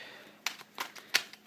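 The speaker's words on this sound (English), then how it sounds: "once I finish shuffling this" A deck of Magic trading cards is shuffled by hand, giving a few faint, quick papery flicks and riffles spaced about a third of a second apart in a quiet room.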